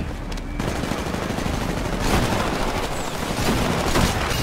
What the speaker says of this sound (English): Here I am rocking the Longbow DMR sniper.